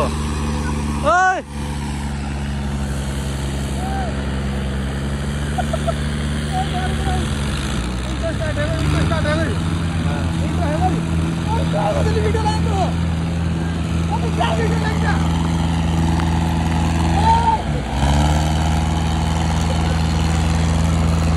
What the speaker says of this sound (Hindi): भाई, ये ट्रैक्टर उल्टा स्टार्ट हो गया, उल्टा स्टार्ट हो गया।